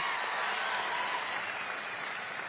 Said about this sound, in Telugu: గట్టిగా చప్పట్లు కొట్టి ఆశీర్వదించండి.